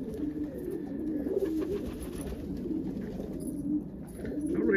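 Pigeons coo softly and repeatedly close by, a steady low burbling that runs throughout with faint rustling behind it, in a loft of young indigo pigeons on a snowy day.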